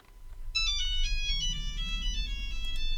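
A bright electronic Nokia ringtone melody in a deep house remix repeats steadily over a low background hum, playing on without being interrupted or answered.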